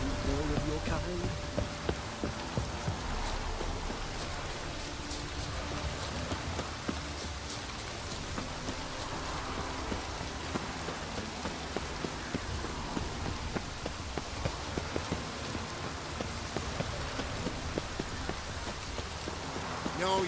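Steady rain falls in The Witcher 3, a soft continuous patter with horse hooves clopping along beneath it, while game characters talk faintly over the downpour.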